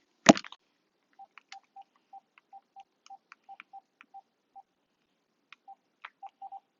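Single beeping keypad tones sound one after another as a phone number is dialed, each short and evenly spaced, preceded by a sharp click, quiet and close with no talk.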